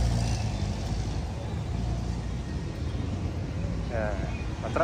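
Street traffic in Divisoria, Manila, rumbles as a continuous, fairly loud wash of car and truck engines, with a brief higher tone near the end.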